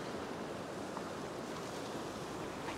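Steady ocean surf washes up a beach where someone is fishing with light line. The noise is a continuous broadband rush with no distinct breaks.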